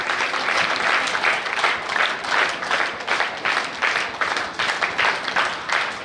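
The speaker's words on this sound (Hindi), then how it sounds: "तालियों की गड़गड़ाहट टूटनी तो चाहिए ही नहीं" Audience at a career planning seminar applauding, dense rhythmic clapping from many people that stays loud and steady throughout.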